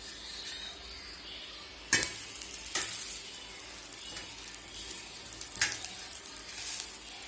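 Adai dosa sizzling steadily on a hot pan after being flipped, a continuous crackling fry with a few sharper spatula scrapes and clicks scattered through, no voices.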